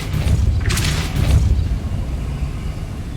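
A Depulso force spell impact in Hogwarts Legacy lands as a single loud, close burst about a second in, then fades into a low, rumbling ambient bed.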